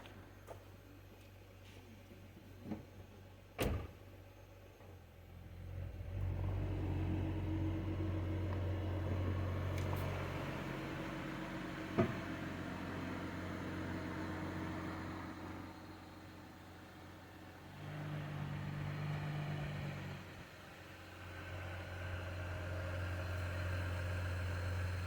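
A Ford Fusion's engine idles and then runs at a low, steady hum as the car is driven slowly onto a lift in a garage, with a few clanks and a brief dip in the engine noise partway through.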